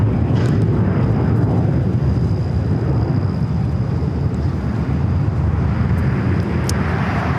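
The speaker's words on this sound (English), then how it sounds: "This is American Airlines 1853 taking off to Chicago on the A321." An American Airlines Airbus A321 bound for Chicago takes off at LAX, its broad engine roar loud and steady throughout with no voices over it.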